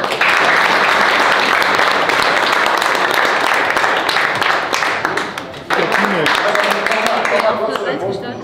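An audience applauds at the awards ceremony of a scooter cup race at the Nürburgring, loud sustained clapping that briefly dips and resumes, with voices mixed in.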